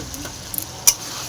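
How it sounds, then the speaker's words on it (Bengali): Boiled potatoes and cauliflower stirred with spices in a pan: soft scraping and a few light clinks of a utensil over a faint sizzle, one sharper tap near the end, close and brief. "আলু ফুলকপিটাকে মশলাটাকে একসাথে মিক্স করে নিতে হবে।"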